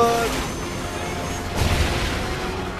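A deep explosion rumbles through Call of Duty Ghosts gameplay, a muffled boom swelling briefly over a constant bed of noisy battle sound.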